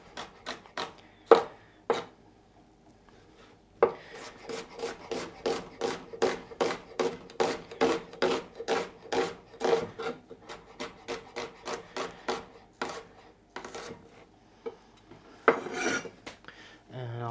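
A knife slices a red onion into half rings, with a few separate cuts at first, then a long quick run of regular, crisp strokes against a board, then a pause and a final few cuts.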